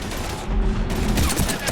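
Rapid bursts of gunfire crackle in the sci-fi video game Mass Effect Andromeda, loud and close, with heavy low thumps in a short flurry.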